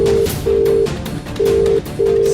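An outgoing call on a phone rings unanswered, giving a loud, clear ringback tone in repeated steady bursts separated by short gaps, with no talking.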